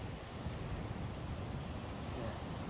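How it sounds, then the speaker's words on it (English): Ocean waves roll in steadily at a rocky seaside campsite, a low continuous wash of surf with wind noise and no voices. "the noise of the waves"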